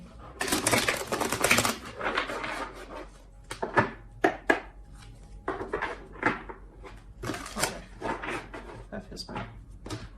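Rapid riffling and flicking of cards in repeated bursts, close and crisp, with a voice speaking at times between the shuffles.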